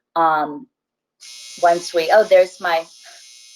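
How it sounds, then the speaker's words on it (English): An electronic laundry machine buzzer sounds as a steady tonal drone under a woman's nearby speech, following a short opening phrase. "I usually don't even have that buzzer on"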